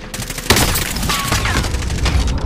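Rapid bursts of gunfire in the Call of Duty Warzone video game, loud and close, crackling in uneven volleys for a couple of seconds with a brief voice underneath.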